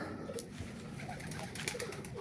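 Pigeons coo low and steadily inside an enclosed loft housing nangtae birds, a soft continuous murmur with a few brighter rustles and calls scattered through it.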